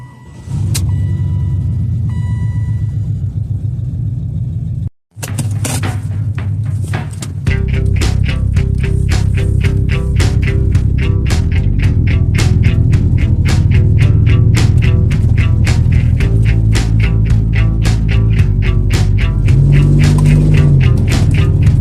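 A 1996 Chevy Impala SS idles briefly, goes quiet for a moment, then cranks and catches, settling into a loud, steady, rumbling idle heard close up with no one talking.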